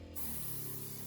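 An airbrush test-sprays Liquitex Yellow Orange Azo ink at 34 psi, a sudden loud continuous hiss that starts after a brief quiet moment and holds steady to the end.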